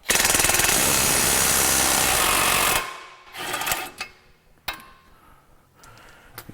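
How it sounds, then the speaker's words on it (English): A power tool on a Porsche Cayman's anti-roll bar end links runs in one loud, steady burst of nearly three seconds, then stops, leaving a few brief clanks and lighter mechanical handling noises. "And I will use power tools for this"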